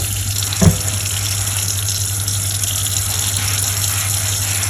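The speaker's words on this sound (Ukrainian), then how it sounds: "Змиваю тарілки під проточною теплою водою з миючим засобом." Steady warm tap water with dish soap pours into a sink while slate plates are rinsed, a continuous broadband rush with a brief splash or clatter near the start.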